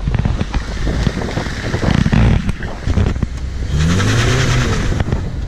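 A Honda Civic Si pulls in, its engine rumbling and revving steadily while wind buffets the microphone.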